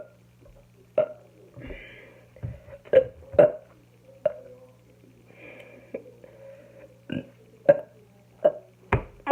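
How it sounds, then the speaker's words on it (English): Burps during a burping challenge come out as a quick run of short, hiccup-like gulps. About a dozen sharp, fairly loud bursts sound at uneven intervals, with quiet stretches between them. "My burps come out in little hiccups."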